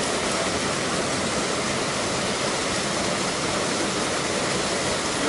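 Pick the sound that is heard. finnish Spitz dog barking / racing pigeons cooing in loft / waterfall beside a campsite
waterfall beside a campsite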